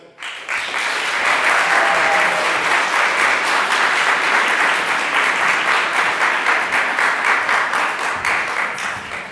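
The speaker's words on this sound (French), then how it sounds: "Nous applaudissons Anteom Wachuk." A large audience at the final of a French debating and eloquence contest applauds a contestant, steady dense clapping that rises quickly and holds loud for several seconds, tapering slightly at the end.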